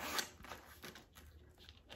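A short, quiet zipper pull on a Louis Vuitton coin pouch with a few scratchy rasps, close by, followed by faint rustling.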